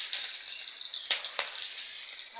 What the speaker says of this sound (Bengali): কড়াই দিয়ে দিলাম সরষের তেল, আর দিয়ে দিচ্ছি গোটা গরম মশলা